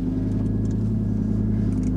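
Steady, loud engine drone from an Audi R8 V10 with its exhaust mode open, a deep mid-range rumble holding nearly constant throughout with slight revving texture, close and unbroken.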